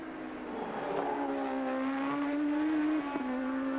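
A Formula One race car at the 1982 British Grand Prix drones past with a high, steady engine whine that holds, then shifts pitch near the end, heard fairly close over faint background.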